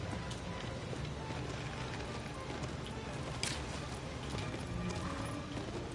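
Horse hooves clip-clopping at a gallop in the video game Shadow of the Colossus, steady rhythmic hoofbeats over constant wind-like game ambience, no clear speech.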